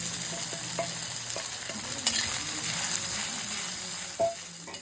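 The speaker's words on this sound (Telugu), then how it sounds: "ఇలా వేసిన సగ్గు బియ్యాన్ని ఆ నేతిలో బాగా కలిసేలాగా కలపాలి" Soaked sago pearls are stirred through hot ghee in a pan, giving a steady close sizzle with occasional soft scrapes and clicks of the spoon.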